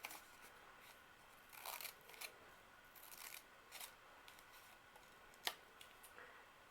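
Scissors snipping paper into small wedge shapes for a cut-and-paste craft, a series of quiet, close, crisp cuts in irregular bursts with a few sharper clicks, no talk.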